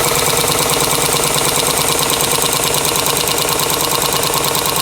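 A vintage 1923 model 99 sewing machine runs steadily as its hook swings back and forth. It makes a loud, continuous, fast, rhythmic clinking whir with no pauses and no talking.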